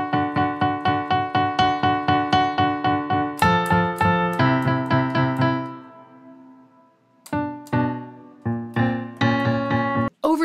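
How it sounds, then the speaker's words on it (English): Synth bass from a film soundtrack, with a bright overtone a major third above, pulsing in steady repeated notes, then sustained tones that swell and fade before the rapid pulsing returns; loud and close, with no talk. "There is this synth that they're using in the bass that has an overtone that sounds like a major"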